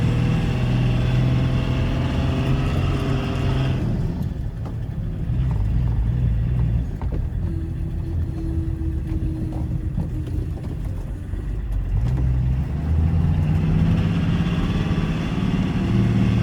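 A BMW car engine runs and idles steadily at close range, a continuous low rumble that dips a little softer midway before the full drone returns, with no talking.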